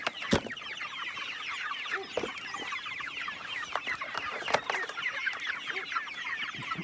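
A flock of growing meat chickens in a chicken tractor on a homestead clucking and chirping continuously at close range, a busy overlapping chatter with a few sharp knocks and taps among it.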